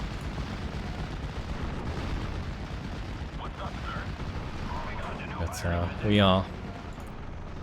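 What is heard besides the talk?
off-map artillery strike exploding in Steel Division: Normandy 44 video game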